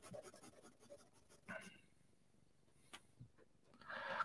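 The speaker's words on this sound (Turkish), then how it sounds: "Kalemin sürtme sesine de laf etmeyin artık dostlar." A pen scrapes across paper in soft, quiet strokes while drawing multiple simultaneous lines, with short scratchy bursts and a louder rasping stroke at the end.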